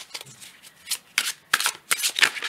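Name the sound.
shuffling Tarot of the Dream Enchantress cards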